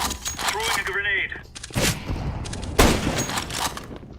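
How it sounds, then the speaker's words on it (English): A grenade going off in a first-person shooter game, with sharp cracks and a booming blast close by following a short burst of speech. "Throwing a grenade."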